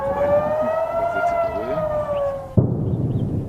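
Loud civil defense sirens warn of rockets in northern Israel, wailing steadily over rumbling background noise, then cutting off abruptly near the end, leaving a low hum.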